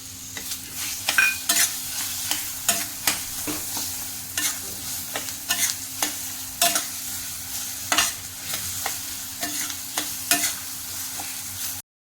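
Sliced bananas stirred into sheera prasad frying in a pan, a spoon scraping the pan in a regular rhythm of sharp strokes roughly every half second over a low constant sizzle, close and unaccompanied by talk.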